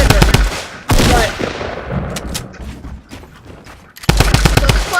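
Gunfire in the Fortnite battle royale game, loud close bursts of several rapid shots at the start, another sharp shot near one second, then quieter scattered reports before a fresh rapid burst of shots at the end.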